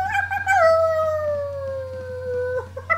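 A dog howls close by, one long, loud, steady wail that slowly falls in pitch over about two seconds, with short yips before and after.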